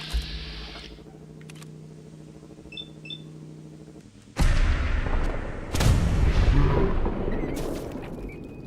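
Gunfire in Fallout 4: after a quiet hum with a few faint clicks, a sudden loud blast erupts, then a second heavy shot follows, each trailing into booming, echoing rumble.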